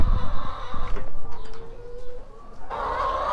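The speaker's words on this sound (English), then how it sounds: "Here come the chickens." Farm chickens clucking close by, with loud clucks and squawks over a busy background and a burst of louder calling near the end.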